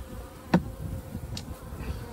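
Calm honey bee colony housed in a possum box, a soft steady low buzz continuing throughout, with a brief louder tap or knock near the start and another fainter one later.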